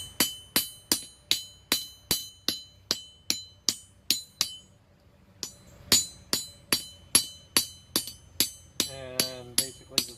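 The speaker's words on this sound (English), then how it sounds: "I'll go with this hammer because it's rounded more." Rounded hammer planishing a forged steel mini anvil block, a steady series of about twenty sharp, ringing metallic strikes at an even rhythm, close and loud, with a brief pause midway and no talk.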